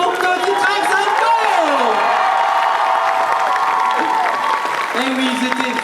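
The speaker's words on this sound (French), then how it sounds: "encore un tonnerre d'applaudissements pour Tony Frank-Sanko." A crowd applauds loudly and steadily, with cheers and whoops rising over the clapping throughout.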